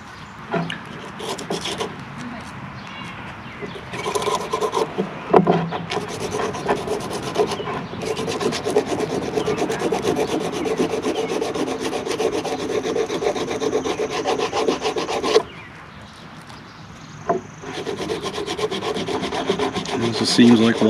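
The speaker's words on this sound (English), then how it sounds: "I'm going to sand the base just like we did the other two." Sandpaper rubs steadily across the base of a wild turkey feather being shaped into primitive arrow fletching, a close, continuous scratchy sanding with brief pauses and no talk.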